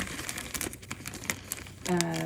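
A plastic bag crinkles and rustles in quick, close crackling bursts as ink dampers from an Epson XP600 printhead are packed into it, with a brief voice tone starting at the end.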